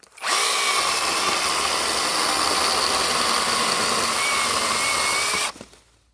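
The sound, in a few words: cordless mini chainsaw cutting wood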